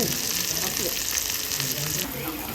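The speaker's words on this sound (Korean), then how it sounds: "지글지글" Food sizzles steadily and close up on the grill at a robata izakaya in Ho Chi Minh City, a dense, unbroken crackle with brief laughter and voices faintly behind it.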